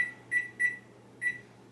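A kitchen timer set for a wool wash soak gives four short, clear electronic beeps in an uneven rhythm, close and alone over a faint steady hum.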